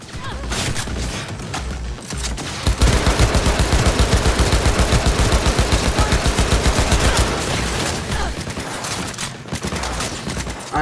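Pulse rifle fire in Cyberpunk 2077, a loud, dense run of rapid-fire shots that starts after a brief lull and hammers on steadily for several seconds before tapering into scattered bursts.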